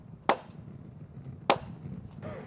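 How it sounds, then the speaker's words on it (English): A blacksmith hammers wrought iron rods on an anvil after reheating them in a small forge. Two sharp, ringing metallic strikes land about a second apart, with quiet room noise between them. "The two halves were reheated many times in a smaller forge, and then shaped into rods using an iron hammer and anvil."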